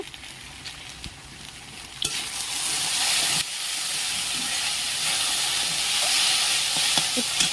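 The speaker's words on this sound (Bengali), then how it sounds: "ভেন্ডি ভাজা একটু পেঁয়াজ বেশি করে দিই আমি" Okra frying with plenty of onion in a pan gives a loud, steady sizzle that swells after a couple of seconds and then holds, with faint stirring scrapes and no talking.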